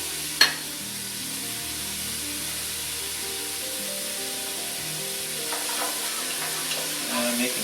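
Carrots and onion frying in oil in a pot, a steady close sizzle with occasional stirring scrapes and a sharp knock near the start.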